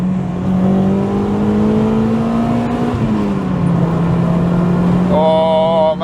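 Honda Accord Euro R CL1 accelerating from inside the car, the engine note climbing steadily through the revs, dipping at a gear change, then rising again with a higher-pitched whine near the end.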